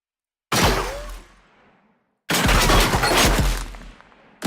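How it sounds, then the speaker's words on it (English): Rifle gunshot and impact effects in a video game, heard as two loud, close blasts, each with a sharp attack and a long rolling tail, the second burst sustained and dense, separated by silence. "So we can swap it out for the rifle impact or shot cue on the muzzle sound."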